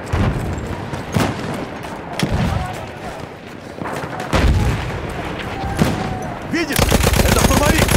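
A Lewis gun machine gun fires in a World War-era video game battle by the Volga river: sharp scattered shots and explosions early on, ending in a loud sustained automatic burst. Distant battlefield noise runs beneath.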